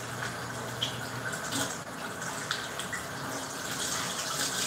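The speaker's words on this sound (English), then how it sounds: "I'm just gonna wash my hands real quick" Running tap water splashes steadily as someone washes their hands at a kitchen sink while cooking meat, a moderate, continuous hiss and patter with no talking.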